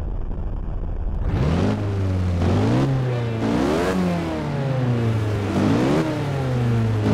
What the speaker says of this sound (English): Now start your engines.